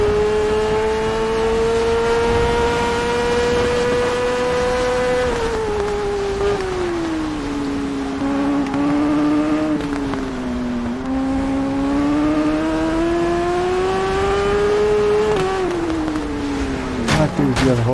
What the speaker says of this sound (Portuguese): a nossa moto está com um desempenho melhor agora